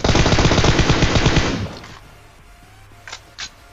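Rapid automatic gunfire in a battle royale video game rattles loudly for about a second and a half, then fades, followed by two sharp, separate single shots from an AWM sniper rifle, with no talking.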